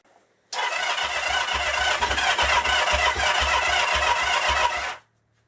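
A 1977 Kawasaki KZ650 B1 motorcycle, just refitted with its carburetors after cam timing work, fires up and runs with a steady, loud, close thrumming for about four and a half seconds before cutting off abruptly.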